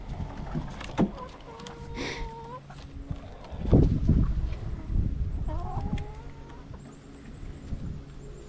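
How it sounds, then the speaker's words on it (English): Backyard chickens being let out of their coop in winter, soft scattered clucks and rooster-like calls over rustling and footsteps, moderately close with no talk. "So we'll go let the chickens out."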